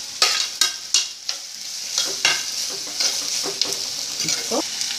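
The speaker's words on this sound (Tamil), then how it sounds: "இது ஒரு 3-4 நிமிஷம் நல்லா வதங்கட்டும்" Onion, tomato and curry leaves sautéing in a pan for a gram-flour chutney: a soft hiss of frying under sharp, close spatula scrapes and taps, quicker at first, then spaced out.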